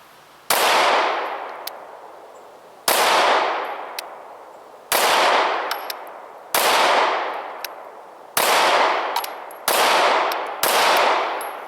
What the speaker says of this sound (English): I'm shooting Blazer Brass 115 grain, so we're using the same ammo on all three guns